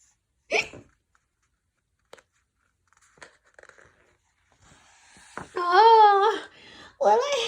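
A storyteller imitates a little penguin's hiccups with a sharp vocal hic near the start, then quieter sounds and a long, wavering voiced cry later, alone without ordinary speech.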